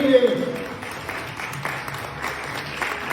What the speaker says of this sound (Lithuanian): Plojimai Virginijai.